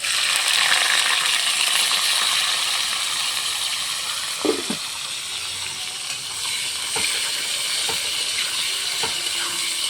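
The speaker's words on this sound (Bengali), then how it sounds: "এখন দিয়ে দেবো কেটে রাখা পেঁয়াজ।" Chopped onions dropped into hot oil in a pan while cooking mutton with jackfruit, giving a steady, close broadband sizzle throughout with a few faint clinks and spoon taps.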